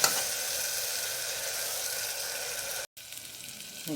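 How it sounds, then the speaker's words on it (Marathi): Masala sautéing in hot oil gives off a steady, close hiss and sizzle that continues evenly, breaks off for a moment, then carries on. "आता छान तेल सुपेपर्यंत आपण याला परतूया"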